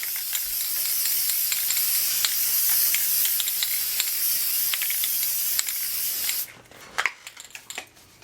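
A continuous loud hiss of aerosol spray onto a cotton shirt runs for several seconds, then cuts off, followed by a few faint clicks and rustles.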